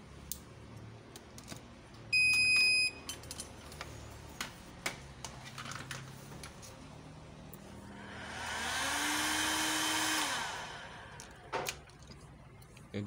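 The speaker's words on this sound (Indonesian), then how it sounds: "Untuk yang pertama kali saya nyalakan inverternya terlebih dahulu." A 24V DC pure sine wave power inverter kit, rated 3000 W, switches on with a sharp high beep, followed by scattered ticks and clicks, then a rising fan-like whir that holds for a couple of seconds and fades.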